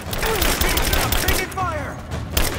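Gunfire from the Rise of the Tomb Raider video game, rapid shots and impacts crackling through a busy game mix while a player's voice talks over it.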